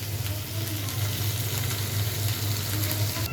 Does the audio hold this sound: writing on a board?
no